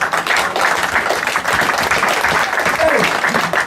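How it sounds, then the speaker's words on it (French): A church congregation breaks into steady, loud applause that fills the room, with voices talking and cheering over the clapping throughout. "Applaudissons pour Maman Samia"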